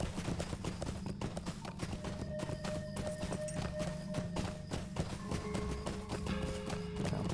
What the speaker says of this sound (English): we got to really kick our horse into high gear here and